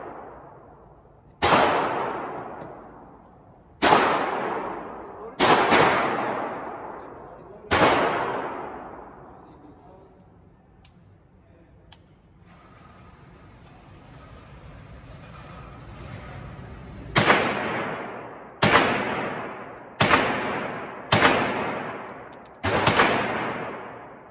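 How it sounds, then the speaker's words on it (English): Shots from an MP5 submachine gun fitted with an ACOG sight at an outdoor range, about ten loud single reports, each ringing out in a decaying echo, spaced a second or few apart with a quiet gap midway. "You want me to shoot five?"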